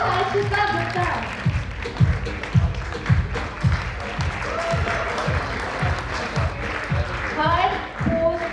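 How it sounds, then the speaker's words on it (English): An audience at a sports and exercise medicine conference closing ceremony claps, with steady rhythmic hand claps mixing into applause while a person talks over it through a loudspeaker. "a big round of applause for Harshita Gupta"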